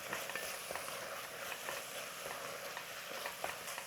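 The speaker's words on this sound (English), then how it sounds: "And then start to mix it all up." A chili sauce mixture with chili flakes and salt is stirred in a bowl, giving a soft, continuous wet swishing with faint scrapes, quiet and close, with no voices.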